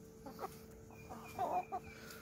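Chickens cluck softly in a hot backyard garden with a few trees, short faint clucks and murmurs scattered at a distance over low background hum, with no talk.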